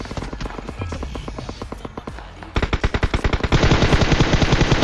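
Battle royale video game gunfire plays as rapid automatic bursts of sharp shots in steady rhythm, loud and close, growing denser and more intense toward the end.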